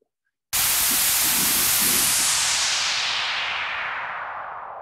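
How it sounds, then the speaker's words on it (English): After a moment of silence, a loud burst of white noise from an EDM sample pack in Logic Pro hisses in abruptly, its bright hiss slowly darkening and sweeping downward as it fades. "Some white noise."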